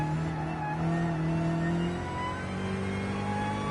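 A car engine in Gran Turismo Sport drones steadily and loudly, holding a sustained revving tone that shifts pitch slightly partway through, with no speech over it.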